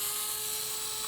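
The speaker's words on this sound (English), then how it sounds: "I'm going to take my gyroscopic drill here" A gyroscopic drill whirs steadily as it backs out screws on a Onewheel motor cover, a brief, close, continuous high-pitched buzz with no talking.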